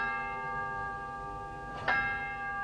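A church bell chiming the hour during a children's stage show, with a long, sustained ringing tone hanging in the air and a fresh strike near the end, heard alone and moderately soft.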